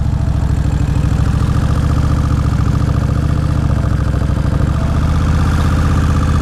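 A 2003 Kawasaki Vulcan VN1600 Classic touring motorcycle engine running at idle, a loud, close, steady low rumble with even pulsing throughout and no other sounds.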